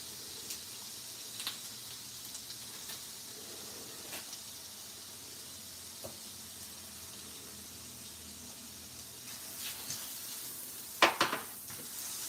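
Garlic fries in a pan with a quiet, steady sizzle and soft hiss, broken by occasional small pops and crackles and a louder sputter near the end.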